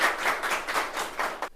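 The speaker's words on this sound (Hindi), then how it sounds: "इनके लिए भी एक बार जोरदार ताली देंगे आप लोग" Audience in an auditorium hall clapping in brisk, dense bursts that pulse for a second and a half, then cut off abruptly.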